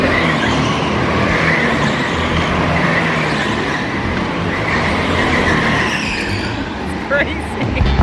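Go-karts race around a track in North Carolina, a loud continuous engine whine and buzz passing close by, with a voice talking over it.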